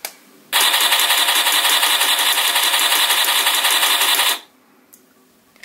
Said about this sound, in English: I just held it down to fire the machine gun, to fire multiple rounds from the machine gun